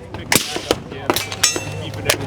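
PMAG-style magazine seated into a rifle at a trade show, several sharp close metallic clicks and clacks in a short irregular burst, with someone talking between them.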